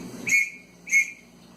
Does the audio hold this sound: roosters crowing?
no